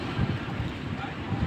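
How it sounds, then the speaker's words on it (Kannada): Steady wind blows outdoors, a broad low rumble with gusty buffeting against the microphone that swells and eases throughout. "ಈಗ ಗಾಳಿ, ಈಗ ಗಾಳಿ ಗಾಳಿ ಗಾಳಿ."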